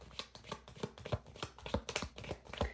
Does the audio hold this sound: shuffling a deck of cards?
yes